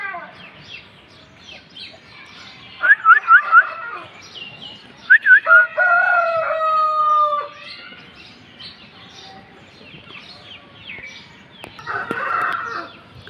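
A 10-month-old big Indian-line Theekar Aseel rooster crows in several long, drawn-out calls, near and clear, between quieter stretches with faint background sounds.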